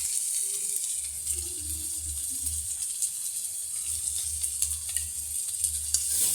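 Ground cumin, chilli paste and Kashmiri chilli powder sautéing with potatoes in a pan for a boal fish curry, a steady close hissing sizzle with a low rumble and faint clinks, no one speaking.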